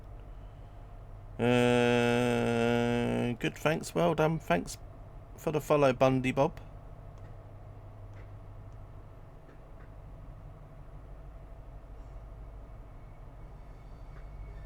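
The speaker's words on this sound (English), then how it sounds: "There's another train leaving." A train departs in Train Sim World 4 on the Brighton to London route, sounding a sustained horn-like tone over a low steady rumble, followed by someone talking.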